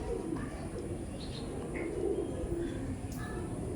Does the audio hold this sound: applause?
no